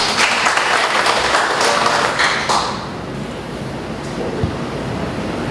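A conference audience of Korean missionaries in the Philippines gives a dense burst of clapping that lasts about two and a half seconds, then thins into a quieter room murmur.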